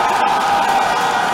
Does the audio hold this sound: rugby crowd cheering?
yes